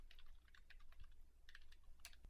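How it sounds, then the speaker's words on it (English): Keystrokes on a computer keyboard tapping out short irregular bursts of typing, close and fairly quiet, with a few brief pauses between clusters of clicks. "I could click inside this note and start typing."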